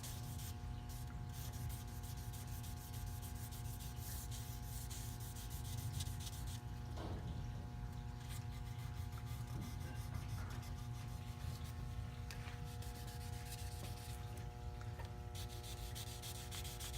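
Steady wet sanding with 3000 grit paper on a cat boat half hull, a continuous soft rubbing hiss with faint occasional squeaks, close and unbroken, no talk.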